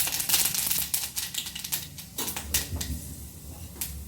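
Mustard seeds and urad dal crackle and spit in hot oil in a pan, a dense, continuous run of sharp pops and sizzle held close and steady throughout.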